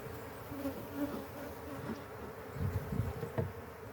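Honey bees buzz steadily around an opened hive during an inspection with smoke, a dense close droning swarm that swells louder near the end, with no talk over it.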